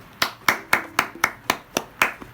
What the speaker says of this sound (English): Now clap your hands.